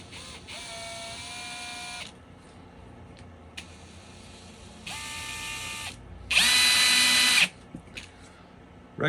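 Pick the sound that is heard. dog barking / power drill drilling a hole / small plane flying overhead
power drill drilling a hole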